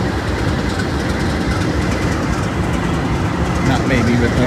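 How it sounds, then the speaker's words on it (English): Union Pacific freight trains near a bridge, a loud continuous rumbling rail roar with faint clicking and screeching, steady throughout under a voice talking. "Trains getting ready to leave here."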